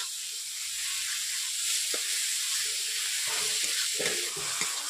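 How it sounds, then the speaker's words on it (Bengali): Masala with chopped tomato, green chillies and a splash of water sizzles steadily in a pan for a katla fish curry, a continuous loud frying hiss with faint stirring scrapes and no talk. "জল দেওয়ার পর টমেটো কুচি দেওয়ার পর আমি এইভাবে মশলাটাকে 3 থেকে 4 মিনিট কষিয়ে নিচ্ছি।"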